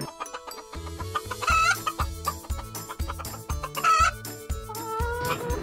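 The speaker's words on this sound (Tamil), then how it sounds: "கோழிங்க எல்லாம் ஒன்னா சேர்ந்து வர்றாங்களே" Chickens cluck repeatedly in an animated Tamil moral story about birds, their calls layered over a busy, rhythmic music track that plays continuously.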